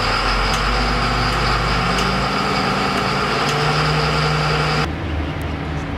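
Engine of an ALLTRACK AT-80HD tracked carrier, heard from inside the quiet cab, holds a steady loud drone as the throttle is bumped, the pitch stepping up before dropping suddenly near the end.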